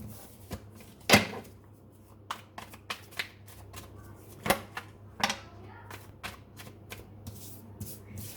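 A deck of tarot cards is shuffled close up, with irregular crisp slaps and riffling snaps, a few sharper clacks standing out, under a faint steady hum.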